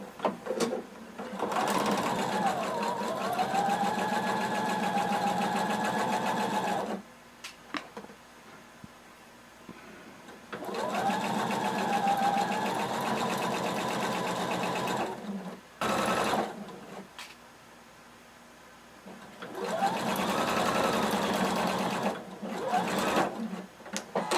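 A sewing machine stitches fringe along the top edge onto a kimono sleeve, whirring in three sustained bursts of several seconds each, separated by short pauses, close and steady.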